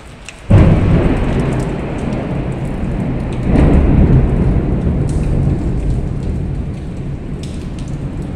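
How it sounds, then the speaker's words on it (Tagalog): A loud rolling thunderclap breaks over steady heavy rain, followed by a second rumble a few seconds later as the downpour continues. "Nagalit ang kulog. Napakalakas."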